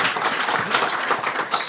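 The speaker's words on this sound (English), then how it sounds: "let's give a round of applause to Congressman Schweikert" Audience applause at a policy talk with Congressman Schweikert, a dense burst of steady clapping from a room of people, close and continuous, swelling briefly near the end.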